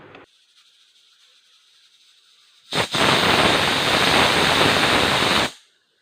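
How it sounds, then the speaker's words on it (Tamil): A pressure cooker whistles loudly while chicken donne biryani cooks: a brief sharp onset, then one long steady roaring hiss of steam lasting about three seconds before cutting off, after a quiet low hum. "ஒரு விசில் வந்துடுச்சு, ஆஃப் பண்ணிட்டேன்."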